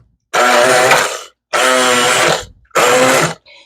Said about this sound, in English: and get my immersion blender.